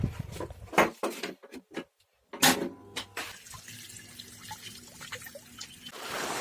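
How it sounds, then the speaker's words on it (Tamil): Water gushes strongly from a farm pipe whose joint has been mended by wrapping it with bicycle inner tube, a splashing, pouring flow with broken bursts at first, then a steadier rush alone in an open field. "இதில் தண்ணி நல்லாவே வருது."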